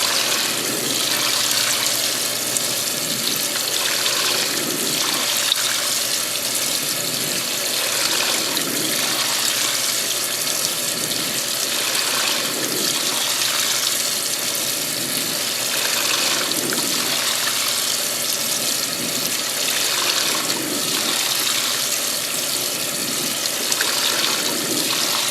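Cold water runs steadily from a tap into a washing machine, a continuous close rushing and splashing that holds level throughout with no voices.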